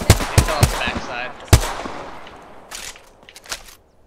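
Gunfire in Apex Legends, a quick burst of sharp close shots followed by a single loud crack and a few scattered distant pops, with voices talking over the action.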